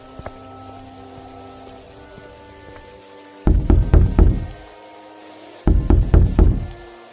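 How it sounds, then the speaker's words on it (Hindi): Knocking and rattling on a door latch at night comes in two loud bursts of rapid, jangling knocks separated by a short pause, over a faint background hiss. "इतनी रात में काहे कुंडी बजावत है?"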